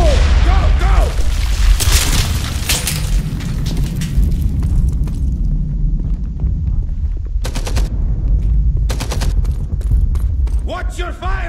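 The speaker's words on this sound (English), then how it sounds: "we are going to blow the wall and take the building by storm" A wall is blown apart by an explosion in the WWII shooter Enemy Front, with heavy booms and bursts of rapid gunfire over a loud, dense battle din, sharp volleys cutting in toward the end.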